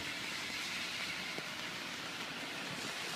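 Rain falling in the old town of Zadar, Croatia, a faint, steady hiss of drops spread evenly through the whole stretch, with one brief soft knock partway through and no voices.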